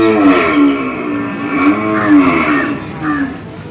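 Nasik buffaloes at a buffalo market give loud, close, drawn-out lowing calls that overlap and rise and fall over a low background murmur.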